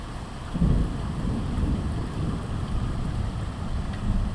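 Early morning thunderstorm with steady rain and a low, distant rumble of thunder, a continuous broadband wash with a slightly stronger swell near the start and no voices.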